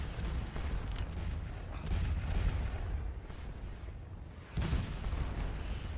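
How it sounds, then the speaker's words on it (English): Artillery guns in a war video game pound away in a dense, continuous barrage of deep booms, loud and close, with a sharper burst near the end. "finally those 2 guns have stopped"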